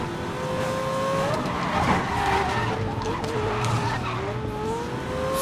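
A BMW M3 in the video game Need for Speed Most Wanted skids with a long, loud tire squeal over a droning engine, held steadily close throughout.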